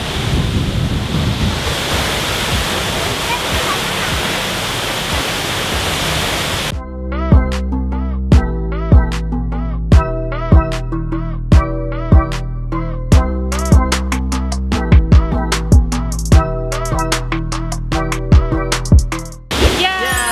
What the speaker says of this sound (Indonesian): Duduk sambil nikmatin air terjun.